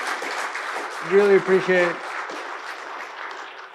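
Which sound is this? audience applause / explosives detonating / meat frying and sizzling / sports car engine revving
audience applause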